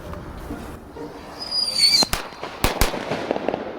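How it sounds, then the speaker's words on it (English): A bunny firecracker fizzes with a rising whistling squeal, then bursts in several sharp, loud cracks in quick succession, heard close by outdoors. "it looks like this firecracker is happy to go boom"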